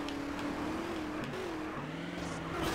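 Car engine in GTA San Andreas on PS4, a steady droning engine tone that shifts pitch up and down as it revs, continuous and fairly quiet throughout.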